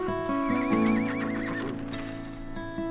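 Team horses hitched to wagons on a frontier homestead whinny loudly and clearly up close while hooves clip-clop on the ground and harness gear rattles around them, with no voices.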